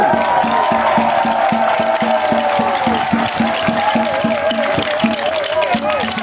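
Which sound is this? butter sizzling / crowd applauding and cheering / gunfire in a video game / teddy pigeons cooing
crowd applauding and cheering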